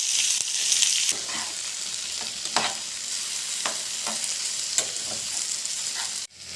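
Chili chicken ingredients fry in hot oil with a loud, steady sizzle, broken by several sharp scrapes and clacks as the pan is stirred, ending abruptly.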